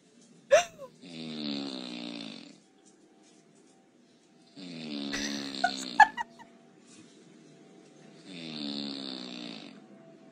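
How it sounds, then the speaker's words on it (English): Three loud, rumbling snores at a slow, even rhythm, each a drawn-out droning roar like a passing plane, with faint clicks and quiet pauses between. "The fake plane or the snoring sound."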